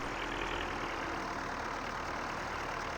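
A tractor engine idles steadily in the farming game Farming Simulator 19, a continuous mid-to-low rumble that holds at an even, moderately loud level throughout with no talk.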